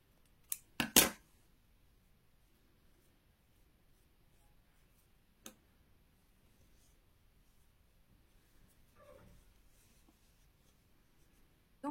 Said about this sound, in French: et je coupe mon fil.